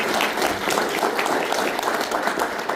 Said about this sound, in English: Let's give one more awesome round of applause for Perry and the team for hosting this event